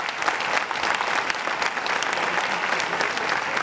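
Steady, dense applause from an audience honoring history award winners at a school merit ceremony, continuous and fairly close with no pauses.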